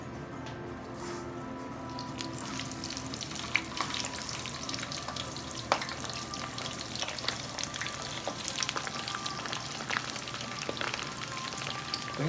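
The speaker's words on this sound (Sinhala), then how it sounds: "අපේ තෙල් එක හොඳට රත් වුණාට පස්සේ අපි අපේ ෆ්‍රෙන්ච් ෆ්‍රයිස් ටික මේ ආකාරයට බෙද ගන්නවා." French fries fry in hot oil for Sri Lankan-style poutine, giving a continuous, moderately quiet sizzle and crackle with scattered sharp pops and occasional stirring clinks.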